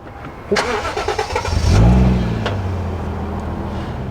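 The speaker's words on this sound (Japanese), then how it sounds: "じゃあちょっとエンジンかけちゃいますね。" A Toyota JZX100 Chaser Tourer V engine cranks briefly and catches, rising to a loud revving burst before settling into a steady idle close by.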